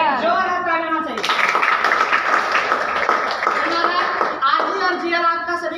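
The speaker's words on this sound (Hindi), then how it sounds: "एक जोरदार ताली होना चाहिए" An audience breaks into loud, dense clapping for about three seconds. A voice speaks just before and just after it.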